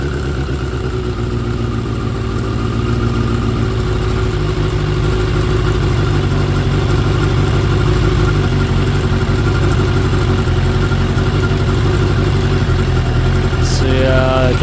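A 2006 Suzuki GSX 600F Katana motorcycle engine idles steadily up close, a smooth, even carbureted thrum with no talk over it, until a brief higher-pitched whine cuts in near the end.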